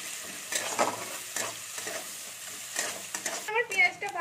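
Chopped onions fry and sizzle in a pan, a continuous close hiss broken by several louder stirring scrapes and splutters, building to a busier spell at the end.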